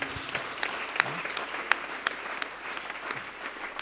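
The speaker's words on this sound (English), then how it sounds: "Clap hands for Jesus." A church congregation claps along during worship, a dense steady patter of many hands with sharper individual claps standing out, filling the room at moderate volume.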